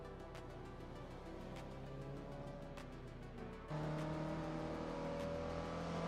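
A 1988 Peugeot 205 Rally races in a video game, its engine droning steadily and shifting to a higher sustained pitch partway through, with other cars' engines whirring faintly around it.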